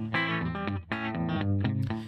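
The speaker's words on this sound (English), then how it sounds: "I'm modulating my pan based on a sine wave, like an LFO" A New Sonic Art Granite synth plays bright, buzzy, harmonically rich notes in several separate bursts, its sound shifted by a sine-wave LFO moving the pan, with short gaps between phrases.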